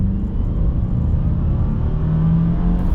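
Interior drone of a Subaru WRX TR engine while driving, a steady low rumble and whir with smooth, undramatic turbocharged power and no voices.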